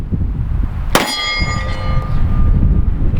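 A heavy steel shooting target rings after a 10mm pistol hit, one sharp clang followed by a sustained metallic tone that slowly decays over outdoor background noise.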